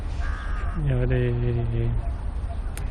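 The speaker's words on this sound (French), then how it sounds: "il y a des oiseaux" A crow caws loudly in a city park in Bangkok, one drawn-out harsh call near the middle, with a voice talking underneath and steady park background.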